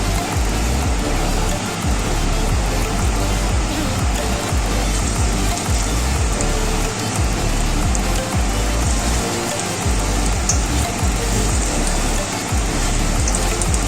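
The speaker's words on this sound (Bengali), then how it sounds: "কড়াইতে সাদা তেলটা গরম হয়ে গেছে, এবার পকোড়ার আকারে করে দিয়ে দিচ্ছি" Cabbage pakoras frying in hot white oil in a wok, a steady dense crackle and hiss that runs unbroken and close throughout.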